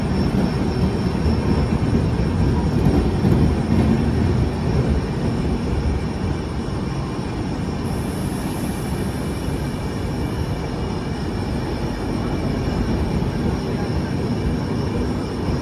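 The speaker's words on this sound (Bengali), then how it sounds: "দার্জিলিং মেল এখন মালদা টাউন স্টেশন ঢুকলো" Darjeeling Mail train rolling into Malda Town station: a loud, steady low rumble of wheels and carriages running close by, holding an even level throughout with a faint high whine near the middle, no voices.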